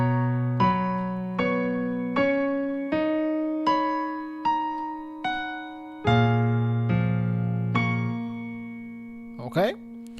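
Piano plays the opening sections of a song, a slow procession of single sustained chords struck about every three-quarters of a second, each ringing and fading before the next, close and clear with no talking.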